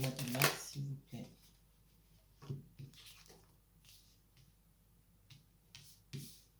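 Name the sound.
shuffling tarot cards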